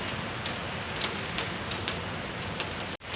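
Steady rain falls in Qatar, a dense continuous hiss of drops on surfaces with faint ticking patter, close and even throughout, briefly cut off near the end.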